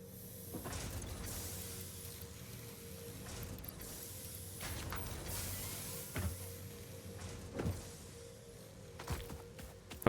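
Factory machinery in the video game Satisfactory runs as a steady mechanical hum with creaking, ratcheting and gear-like clatter, plus a few sharper clanks toward the end; no one speaks.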